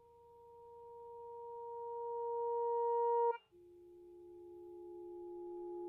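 Reverse sustain patch from the Quartarone Guitar Reveries guitar library: a steady tone that swells louder for about three seconds, cuts off abruptly, then a new lower sustained tone rises again, heard alone.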